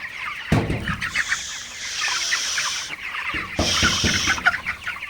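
Broiler chickens cluck and squawk in a poultry shed, a busy overlapping chorus with sudden louder bursts of flapping and calls, close and with no talking.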